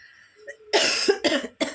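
After a faint hum, a woman coughs three times in quick succession, loud and close, each cough harsh and breathy.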